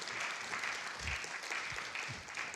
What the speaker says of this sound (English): You're clapping for him, right?